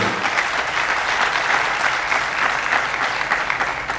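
A church congregation applauds in steady, dense clapping that fills the space evenly and stays loud and sustained throughout, with no voices rising above it.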